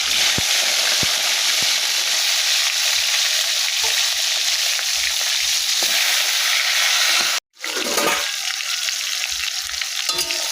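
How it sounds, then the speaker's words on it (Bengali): Catla fish heads hiss and crackle as they fry in hot oil in a kadai, a loud continuous sizzle that briefly cuts out, then returns with a faint tone under it. "মাথাগুলোকে ভেজে নিই।"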